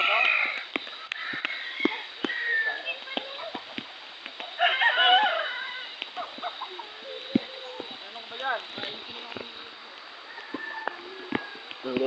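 Chickens and other farm fowl cluck and call in scattered bursts across a wide rural yard, steady chatter of birds, with people talking at times.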